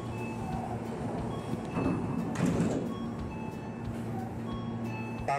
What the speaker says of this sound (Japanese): 3番線ドアが閉まります